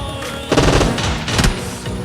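Gunfire in the mobile shooter PUBG Mobile: two loud, dense bursts of rapid automatic shots, the first longer and the second shorter, with no talking.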